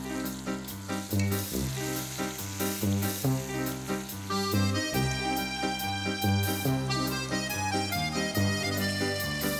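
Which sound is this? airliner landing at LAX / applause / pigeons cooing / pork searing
pork searing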